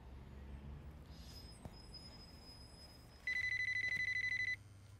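A telephone rings in a fast, steady electronic trill for about a second, fairly loud and close, over a quiet room hum.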